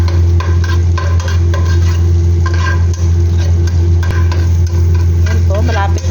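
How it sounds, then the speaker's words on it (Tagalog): Garlic sautéing in a hot pan while being stirred, a steady sizzle with scraping stir strokes throughout, under a constant low hum. "ito naman po yung bawang. Yan, igisa nyo lang siya"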